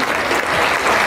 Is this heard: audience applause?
yes